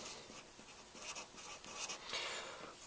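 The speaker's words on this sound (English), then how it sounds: "I'll write that here on the top." Marker or chalk writing on a board during a finance lesson, a continuous scratchy, squeaky scrawl with short strokes and pauses, close and moderately loud with no talking.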